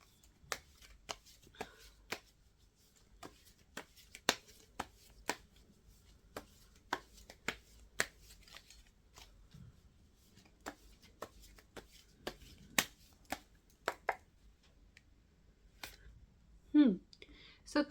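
Tarot cards being shuffled, heard as a series of sharp, evenly spaced snaps and taps from the cards, fairly quiet and close, ending in a brief louder rustle.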